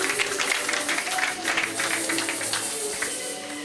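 A church congregation claps and applauds together in praise at a service, a steady, moderately loud patter of many hands filling the room.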